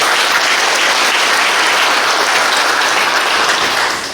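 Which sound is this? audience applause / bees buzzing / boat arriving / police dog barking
audience applause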